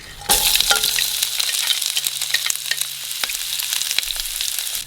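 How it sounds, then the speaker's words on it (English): Mixed vegetables hitting hot oil in a nonstick pan over high heat, a loud sudden sizzle that holds steady with spatula clinks and crackling pops throughout. "Let's add in all of the vegetables except for the green onions."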